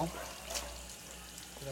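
Water sheets and runs off the painted body of an Opel Astra H during a sheeting test, a faint, steady broadband wash that continues throughout.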